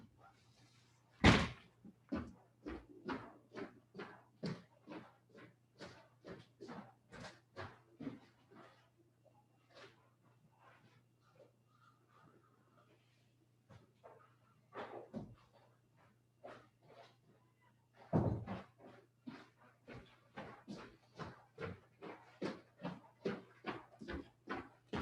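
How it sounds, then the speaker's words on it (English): A series of door slams and thunks indoors, one sharp loud bang near the start and another around the middle, with many shorter knocks and clicks in a steady rhythm between them, over a low constant hum. "I'm going to go close some doors"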